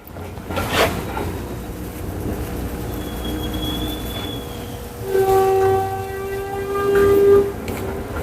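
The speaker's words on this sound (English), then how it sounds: "the trash truck is out there and it's very loud." Squeaking from a trash truck outside during Shih Tzu grooming: a steady low rumble with faint high whines and a couple of brief louder tonal squeals, distant and muffled.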